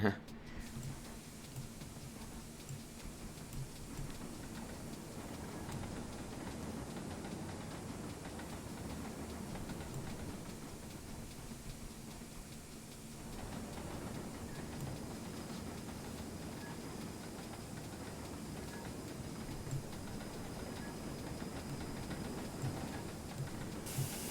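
A steam locomotive running in Train Sim 2017, a steady hiss and rumble of the engine under constant rail noise throughout, with a voice talking over it.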